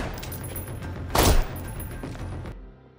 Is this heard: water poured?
no